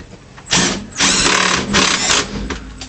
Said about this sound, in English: Oh, I'm liking this DeWalt impact driver.